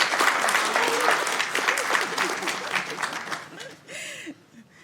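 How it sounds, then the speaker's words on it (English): A crowd at a city council meeting applauds with dense, steady clapping while voices cheer and talk over it, the applause thinning out toward the end. "Let's give them a big round of applause."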